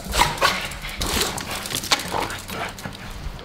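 Several dogs scuffle at a house, snarling and yelping with high whimpers and a few short barks, close by and restless throughout.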